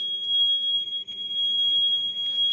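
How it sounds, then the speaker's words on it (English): A smoke alarm sounds in a continuous, loud, high-pitched electronic tone that holds steady through the whole stretch, with only a brief dip near the middle and no voices. "I think that's a fire alarm."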